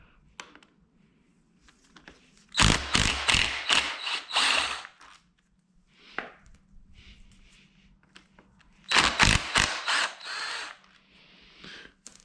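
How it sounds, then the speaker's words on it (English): A 3/8 impact wrench fitted with a star bit hammers at bolts on a 1992 Honda Civic D16Z6 engine during a teardown. Two loud, close, rattling bursts of a couple of seconds each are separated by quieter shop noise. "we're gonna grab a 3/8 impact with a 3/8 starred bit on there, and that's what size these bolts are"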